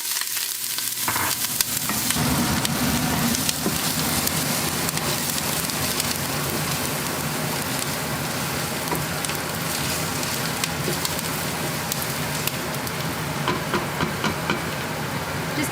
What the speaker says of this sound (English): set the Instant Pot to saute and waited for about 2 tablespoons of oil to get hot. And now we're going to start with adding our onion.